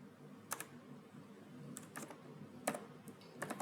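Soft bursts of computer keyboard typing while entering Java database code, a few quick clustered keystrokes separated by pauses, close and faint over a low room hum, no talk.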